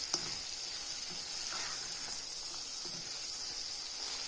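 Broad bean seeds with dried loitta fish sautéing in a pan with small cherry tomatoes, a soft steady sizzle close by with occasional faint stirring clicks, and no talking.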